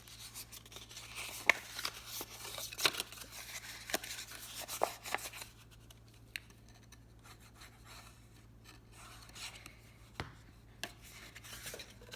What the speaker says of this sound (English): Fold on the score lines.